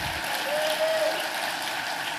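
Audience on its feet gives a full round of applause at a speaking event, a continuous dense wash of clapping with a few cheers, loud and steady from start to finish.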